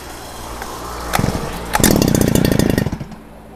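A used Robin brush cutter's small two-stroke engine fires up after a choke start. It sputters in brief bursts, then settles into a loud, buzzing run nearby before easing off at the end.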